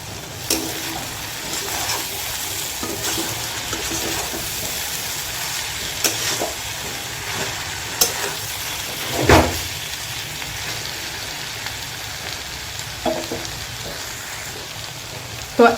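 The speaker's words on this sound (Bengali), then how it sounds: "এখন আরও একটু সময় মশলাটা ফ্রাই করে নেব" Masala for a spicy dried kachki fish curry frying in a pan, a moderate steady sizzle with occasional soft stirring scrapes and one brief louder bump.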